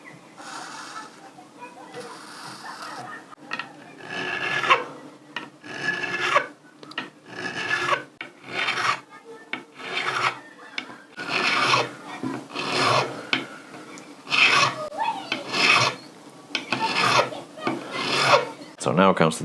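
A file rasps across the frets of an old classroom guitar to crown them. The strokes are loud, close and rhythmic, repeated back and forth many times with brief gaps between them.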